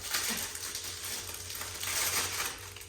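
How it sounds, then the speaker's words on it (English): Loud, continuous crinkling and crackling of plastic packaging, swelling in bursts over a few seconds, close up with no voices. "It's going to be loud with the plastic for a second."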